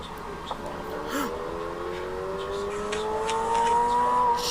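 A sports car engine, likened to a Supra, revs and roars in the distance, its pitch rising steadily over several seconds and growing louder, with scattered faint noises alongside.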